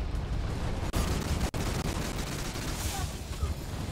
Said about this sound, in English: the grenade launchers are a little hard to aim